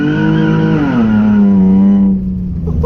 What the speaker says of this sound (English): should we do a good burnout right here?